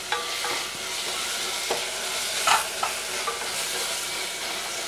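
Curry leaves and coriander sautéing in a pan with mutton masala, giving a continuous close frying sizzle with light stirring clinks and scrapes scattered through.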